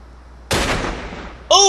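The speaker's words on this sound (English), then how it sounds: "shot him right in the ass" A single loud gunshot from The Godfather II fires at about half a second, its crack decaying over the next second before a sharp tonal game sound cuts in.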